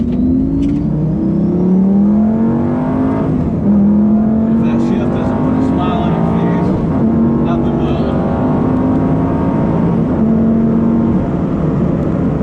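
Lamborghini Gallardo fitted with a Burtman Sprint booster accelerating in race mode, a loud interior engine drone rising through several gears with someone talking over it.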